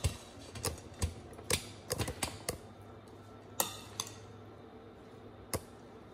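Spicy cucumber salad with peanuts is tossed in a bowl, giving scattered sharp clinks and taps of a utensil against the dish, with quiet gaps between them.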